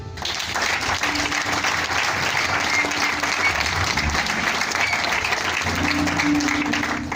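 A church congregation applauds steadily throughout a worship service, a dense, continuous wash of clapping from many hands that fills the room without pause.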